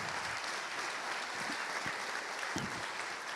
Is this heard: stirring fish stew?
no